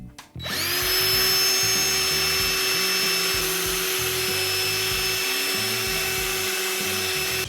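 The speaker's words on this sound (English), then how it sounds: "So now I have drilled my center hole on the long stem." A power drill starts up and whines steadily for several seconds, the bit grinding continuously as it bores a center hole into a long wooden stem.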